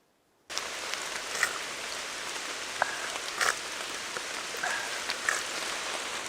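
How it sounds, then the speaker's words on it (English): Steady rain pattering through moss-covered woods at a Temagami wilderness camp, a dense even hiss with occasional louder drips close by, no voices. "When it's raining like this, all of the moss and all of the punky woods soak up all that fresh rainwater."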